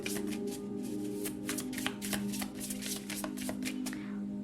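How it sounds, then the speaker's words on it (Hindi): Tarot cards being shuffled by hand in a reading, a quick run of crisp riffling snaps and soft slides, close and steady throughout with no voices. "अब आपके टैरो कार्ड्स देखते हैं, आपके लिए शफल कर लेते हैं कार्ड्स को"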